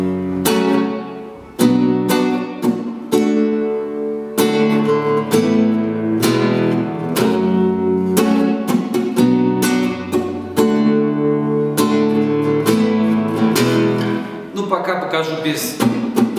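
Acoustic guitar strums a slow-tempo pattern from a song, with full chords struck in a steady rhythm. Each strum rings out before the next, and the guitar plays close and clear on its own.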